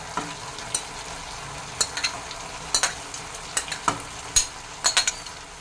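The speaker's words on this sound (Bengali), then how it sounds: "এর মধ্যে দিয়ে দিচ্ছি এই ভাজা পনিরগুলো" Fried paneer gets stirred through sweet chili sauce in a pan for garlic paneer, with a soft sizzle broken by repeated sharp spatula scrapes and knocks at an irregular pace.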